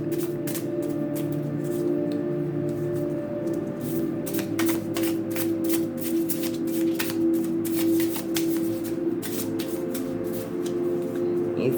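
A brand-new tarot deck being shuffled by hand, a steady run of crisp card riffles and flicks repeating over a sustained tonal hum in the background, close and continuous with no talking.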